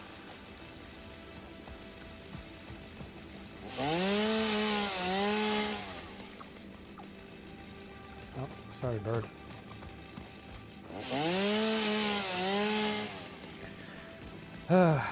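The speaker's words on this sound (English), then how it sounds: "Nothing like the screaming sound of a chainsaw first thing in the morning, huh?" Chainsaw cutting trees in the game Satisfactory: two loud revving bursts several seconds apart, pitch rising and falling as the saw bites, with a shorter buzz between and a person talking briefly.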